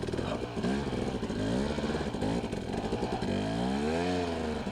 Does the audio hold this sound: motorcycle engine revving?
yes